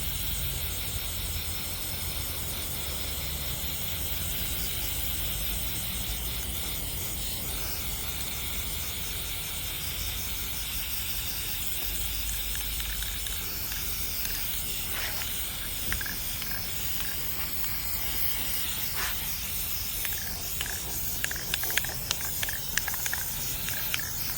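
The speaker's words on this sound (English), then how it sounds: "Don't want to get spray paint on the lid." A continuous hiss of spray paint runs steadily for a long stretch, with faint clicks and rattles toward the end; no voices.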